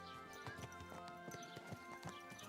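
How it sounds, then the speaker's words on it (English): Horse hooves clip-clop in Kingdom Come: Deliverance 2, a steady run of sharp knocks about every quarter second, close and distinct, over a quiet tonal backdrop with no talk. "Oh, my horse."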